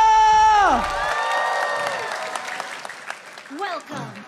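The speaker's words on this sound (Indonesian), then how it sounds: "MPL Arena, minta tepuk tangannya!" A large esports arena crowd at an MPL Indonesia Season 11 Mobile Legends match claps and cheers in a sustained roar, with whoops and a commentator's voice rising over it.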